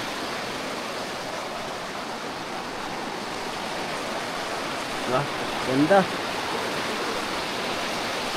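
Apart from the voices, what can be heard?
rushing river under hanging bridge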